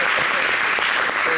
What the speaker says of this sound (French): il faut applaudir encore pour nos invités